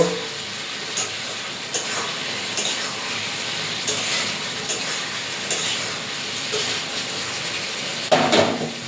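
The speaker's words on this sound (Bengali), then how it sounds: "একটু ভালো করে কষে নেব।" Food sautéing in a pan gives a steady hiss and sizzle, and a utensil scrapes and clinks against the pan about once a second while it is stirred, close by.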